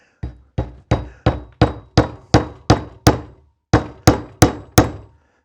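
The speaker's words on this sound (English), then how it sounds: "you have to really trust your hammer skills" A hammer strikes something to crack it open, pointy side down, on a gardening show: about thirteen sharp, loud blows in a fairly even rhythm, with one short pause partway through. No talking.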